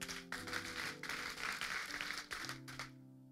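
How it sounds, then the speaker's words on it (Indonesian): Church congregation clapping during a worship service, a faint, steady patter under sustained music tones that fades at the end. "kasih tepuk tangan untuk Tuhan"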